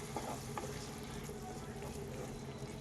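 Egg masala frying in oil in a pan on a gas stove: a soft, steady sizzle with small crackles, quiet and continuous, with a person speaking over it.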